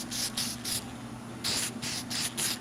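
Red lacquer spray paint applied to trim in a 1982 Corvette interior, a series of short close hissing bursts from the aerosol can in an uneven rhythm, with a pause in the middle.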